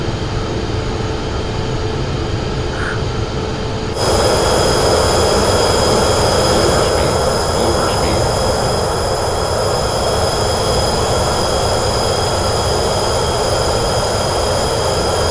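A jet's engines spool up for takeoff in a flight simulator: a loud, continuous roar with high whining tones jumps to a louder, fuller level partway through and then holds steady, with no voices.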